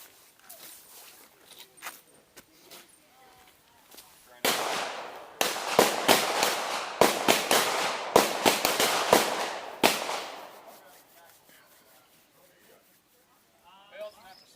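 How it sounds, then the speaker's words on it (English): A Glock 34 pistol fires a rapid string of sharp shots during a Bianchi Cup action pistol stage, nearby and loud, about a dozen cracks in quick succession after quieter ambient sounds and distant talk. "a competitor is given 8 seconds to fire 6 rounds at the first target"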